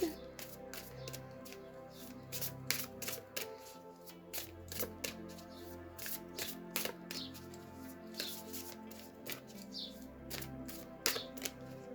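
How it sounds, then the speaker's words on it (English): Rapid papery riffles and snaps of tarot cards being shuffled, repeated in quick bursts, with a voice murmuring faintly underneath. "Okay, so that's enough shuffling."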